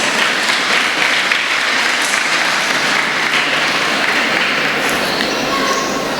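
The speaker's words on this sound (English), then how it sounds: "A big round of applause to all behind the scenes," Dense, sustained applause from an audience at a World Space Week celebration event, steady clapping filling the whole stretch without pause.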